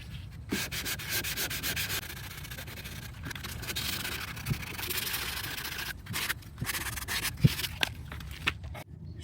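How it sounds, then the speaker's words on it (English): Steady scratchy rubbing of 600 grit sandpaper on a metal car door, continuous back-and-forth strokes, close and fairly quiet, with a few small knocks along the way. "So right now I'm sanding it with the 600 grit."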